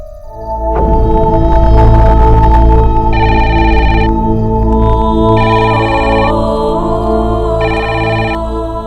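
A telephone rings loudly with a repeated electronic tone in bursts over a sustained musical ringtone bed, with no speech.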